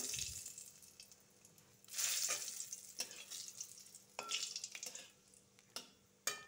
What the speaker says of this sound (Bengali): কালো জিরা সম্বাদ দিব। শুকনা লঙ্কা সম্বাদ দিব।